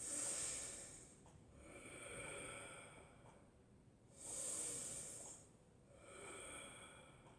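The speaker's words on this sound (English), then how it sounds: "5 deep breaths." Slow, deep breathing during a standing yoga warm-up in mountain pose, two long airy inhale-exhale cycles, soft and close, with no talking.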